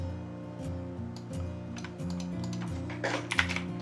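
Keys clatter on a computer keyboard while text is entered into an Inventor drawing, light irregular clicks spread across the clip over a steady low hum, with a brief denser burst near the end.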